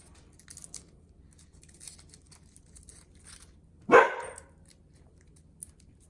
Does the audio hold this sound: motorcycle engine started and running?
no